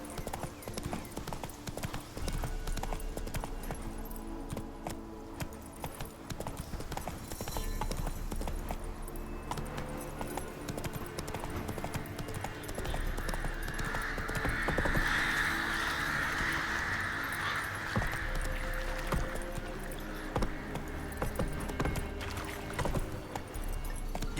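A horse gallops in The Witcher 3, its rhythmic clip-clop of hooves running steadily throughout with some brief fainter whinnying, and a voice briefly urging the horse on.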